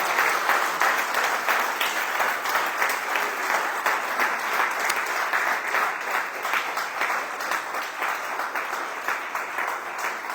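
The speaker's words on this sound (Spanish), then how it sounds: "le damos un fuerte aplauso al Señor" Church congregation giving a loud round of applause to the Lord, dense, even clapping from many hands that continues steadily and loudly for about ten seconds.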